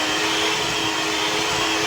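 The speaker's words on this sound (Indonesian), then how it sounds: "Kita masukkan dan mixer lagi 4 menit lagi, atau sampai benar-benar kalis." An electric mixer kneads burger bun dough with butter, giving a steady, loud, even motor whine with no pauses.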